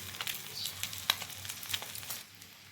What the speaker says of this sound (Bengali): এক সাইড ভালো মতন ভেজে নেওয়ার পরে আমি সাইড উল্টে আরেকটা সাইডকেও ভালো মতন ভেজে নিচ্ছি।